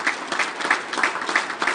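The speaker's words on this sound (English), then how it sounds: "Big round of applause again, Harold Knight." An audience at a senior calling championship event applauds a hall of fame inductee, steady clapping with rhythmic pulses filling the room, sustained and fairly loud throughout.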